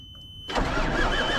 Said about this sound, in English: Let's see how well the truck fires up.